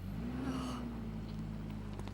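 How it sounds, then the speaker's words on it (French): A car engine hums low and steady nearby, a faint rising tone at the start, with no talking. "C'est la voiture de Sarah?"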